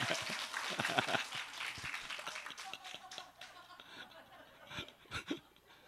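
A church congregation claps and shouts amen during a sermon, a burst of applause at the start that thins into scattered claps and murmuring voices, with a few louder claps near the end.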